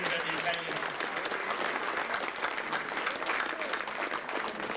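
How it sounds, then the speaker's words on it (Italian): An audience at a Club Molinara 25-year celebration claps in steady, dense applause that holds at an even level the whole way, with crowd voices mixed in. "I think she deserves another round of applause."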